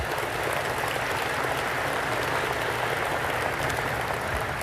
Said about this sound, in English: Can we have one more round of applause for these terrific guests?